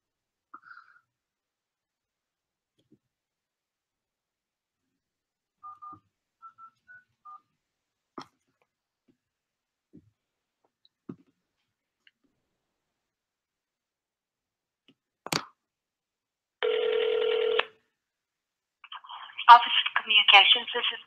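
Telephone keypad tones sound in a few short beeps, then a steady electronic ring burst and a brief noisy phone-line segment follow, all fairly quiet with long gaps of near silence between.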